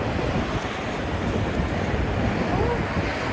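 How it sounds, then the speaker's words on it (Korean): Strong wind blows hard outdoors on a walk near Pyeongtaek, a loud steady roar buffeting the microphone for the whole stretch with no break. "아, 바람이 장난 아니야."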